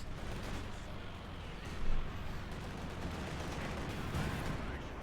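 Gunfire and rockets from the Company of Heroes 2 video game form a dense, continuous battle roar of overlapping shots and rumbling blasts, holding steady at moderate loudness throughout with one slightly louder swell.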